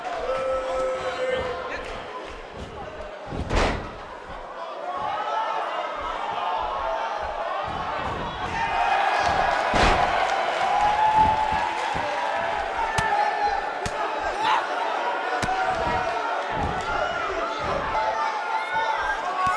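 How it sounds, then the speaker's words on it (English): A women's wrestling crowd at a 1985 GLOW match roars and cheers in a steady arena-wide swell, with a commentator's voice over the noise and occasional sharp thuds and slams from the ring. "Sounds like this crowd is starting to get behind her"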